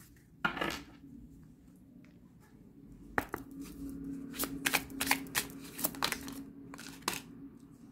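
Oracle cards being shuffled and laid out for a nine-card spread, a soft riffling rustle followed by a run of crisp, close slaps and flicks as cards are drawn and set down.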